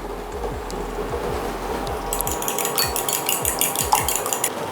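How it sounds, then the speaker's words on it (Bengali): Eggs with salt and pepper are beaten in a bowl for an egg wash, producing a steady run of quick, evenly spaced clinks and taps against the bowl, fairly close and continuous. "সামান্য একটু নুন আর গোলমরিচ দিয়ে ডিমটা আমি ফেটিয়ে নেব।"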